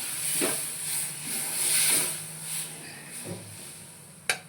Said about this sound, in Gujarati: હવે અંદર દૂધ રેડી દઈશું.